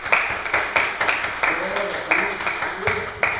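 A church congregation claps together in applause for Jesus during a Pentecostal Assemblies of God service, with dense repeated hand claps and a speaking voice running over them throughout.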